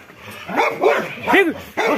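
A dog barks three or four times in quick, uneven succession, close and fairly loud, with short yelping barks.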